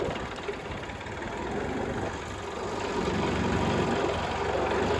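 A steady, low tractor engine drone rumbles continuously throughout, a heavy motor idling or chugging along at moderate loudness with no voices.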